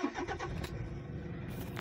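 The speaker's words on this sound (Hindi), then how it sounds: "अब ऑन करते हैं थोड़ा इस गाड़ी को" A Toyota Fortuner, about five years old with roughly two lakh on the clock, cranks and starts in neutral: a brief starter whir, then the engine catches into a low steady idle, fairly quiet and close.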